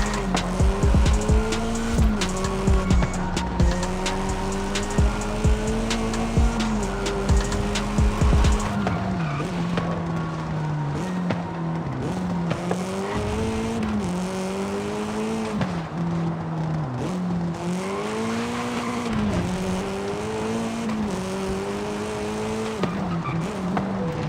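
Cars racing in the video game Forza Horizon 5, with a steady, loud engine roar rising and falling in pitch, mixed with tire squeal and skidding throughout, with no talk.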